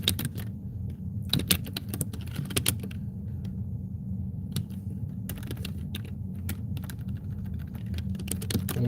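Computer keyboard typing during a work session, with irregular bursts of quick key clicks at close range over a steady low background hum.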